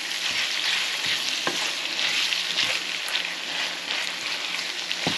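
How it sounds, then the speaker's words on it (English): Beef frying in a pan over high heat, a steady loud sizzle with occasional soft scraping taps of stirring, close and continuous with no talking. "so we'll cook the beef"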